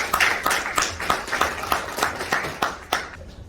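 A small audience claps to welcome a company head to the stage for a lecture. Distinct, fairly close handclaps fall in a loose, uneven rhythm, with no voices.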